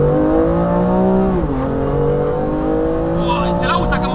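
A tuned BMW M2 Competition, stage 3+ at 720 horsepower, pulls hard with a loud, steady engine drone that climbs in pitch partway through, its exhaust note continuous and close, with voices talking over it.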